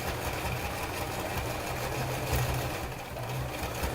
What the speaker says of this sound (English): I'm sewing right to the edge